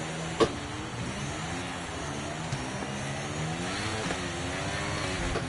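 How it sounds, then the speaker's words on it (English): A Formula 1 car engine in the F1 23 video game drones at high revs before the start, held steady with slight wavering pitch, plus a sharp click near the start. "Let's build the revs up and hold them."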